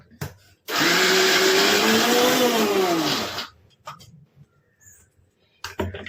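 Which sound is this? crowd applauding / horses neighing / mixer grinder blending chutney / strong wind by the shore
mixer grinder blending chutney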